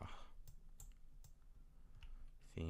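Someone types on a computer keyboard while coding with Google's MDC library: a few scattered, fairly quiet key clicks over low background hum, ending in a louder burst of noise.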